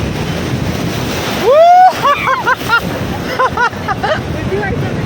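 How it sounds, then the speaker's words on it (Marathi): Ocean surf roars close by at Nagaon Beach, Alibag, with strong wind buffeting the microphone, while people shout and call out excitedly over large crashing waves. "ती बघा आणखी एक मोठी लाट आलेली आहे."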